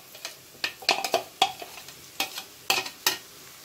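Chopped onion goes into a pan and is stirred, giving a series of sharp scraping and clattering strokes against the metal over a light sizzle, close and fairly loud, irregular in rhythm.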